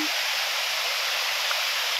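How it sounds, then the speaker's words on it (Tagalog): Clear water flows steadily at Engcanto Falls, a constant broadband rush of a waterfall or fast stream, near and fairly loud, with no voices over it. "Ayan ang ganda po ng daloy ng tubig, sobrang malinaw."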